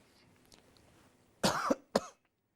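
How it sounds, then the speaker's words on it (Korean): Two sharp, loud coughs close to the microphone, the first longer and rasping, the second short, in an otherwise quiet room. "기침 좀 했습니다."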